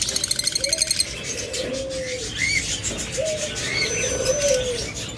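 Caged pet birds such as lovebirds, budgerigars, cockatiels and finches give repeated short chirps and soft warbling calls close by, after a brief burst of rapid rhythmic ticking at the start.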